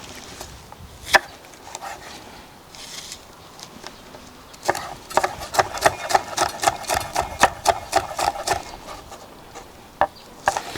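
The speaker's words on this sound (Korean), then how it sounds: "빨간 파프리카 하나 썰어서 넣겠습니다" Knife slicing a red bell pepper on a cutting board while making young radish kimchi, a few isolated taps followed by a quick run of rhythmic chopping knocks, close and crisp.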